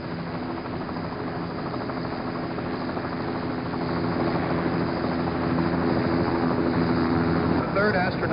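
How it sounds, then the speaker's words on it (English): A helicopter's rotor thrums steadily and loudly near the recovery ship USS Hornet during Apollo 11, a constant throbbing drone that grows slightly stronger toward the end. "the helicopter is going to come back to the ship now."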